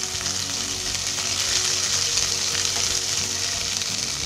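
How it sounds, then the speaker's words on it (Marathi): Ginger-garlic paste fries in hot oil with a dense, steady sizzle and crackling spatter, close and continuous for a few seconds. "अद्रक लसूणची पेस्ट टाकल्यावर आहे ना, आपण जरा लांब राहायचं, कारण का ते तेलात चिंडतात अंगावर."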